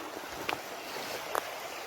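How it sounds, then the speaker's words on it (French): A small stream flows in a countryside outdoor setting, a steady broadband rush of running water, fairly close, with two faint brief clicks or splashes standing out and no talking. "Donc là, on arrive à ce ruisseau."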